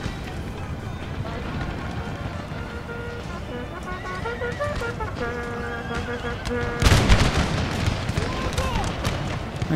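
Musket volleys and cannon blasts in an Empire Total War battle, Knights of St John repelling the Spanish, form a dense crackle of shots that swells into a louder burst near the end, with a voice talking over it.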